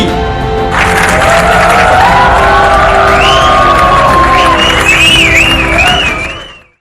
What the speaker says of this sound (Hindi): जोरदार तालियों के साथ आप स्वागत कीजिएगा डॉक्टर अमित महेश्वरी।